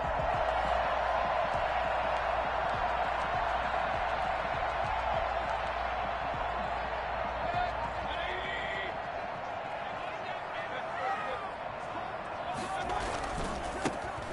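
Stadium crowd at a football video game opening drive, a steady dense roar of cheering fans that holds throughout, with commentary talk layered over it.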